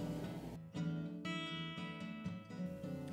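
Several plucks of the tensioned Y-axis drive wire on a QBOT quilting machine produce repeated resonant twangs with sustained tonal ringing, close up and quiet.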